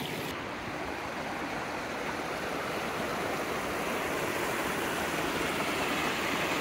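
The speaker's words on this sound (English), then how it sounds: "this current is really it's pulling stuff from quite a ways away. And it's really rushing out" Water rushing out through culverts after a beaver dam is removed, a strong steady roar of flowing current, close and continuous with no talking.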